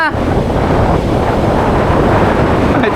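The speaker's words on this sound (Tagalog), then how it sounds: "Napakalakas ng alon." Strong sea waves surge and roll onto a Palawan beach, a loud, continuous roar of surf with heavy wind buffeting the microphone throughout.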